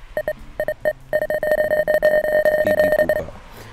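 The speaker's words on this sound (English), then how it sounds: "Beep, beep, boop, it's probably some like binary code or something." Electronic beeps in the VR escape room game Abode form a code: a few spaced tones, then a long fast run of loud, even pulses that carries on steadily before fading out.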